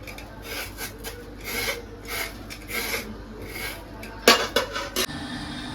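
Bottle gourd (lau) is being cut for cooking in a home kitchen, a series of rhythmic scraping, rasping strokes close by with a few sharper knocks near the end, no speech.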